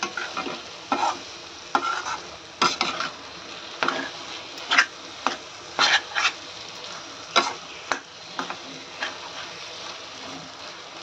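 Onions, tomatoes and eggs sautéed together in a pan: a soft steady sizzle broken by repeated scraping stirs of a spatula, close and fairly rhythmic, with no talk.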